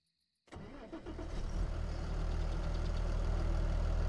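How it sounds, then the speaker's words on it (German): A tractor engine in Farming Simulator 22 cranks and catches after a brief silence, then settles into a steady, loud, low idle rumble close by. "Ich kann den Motor starten."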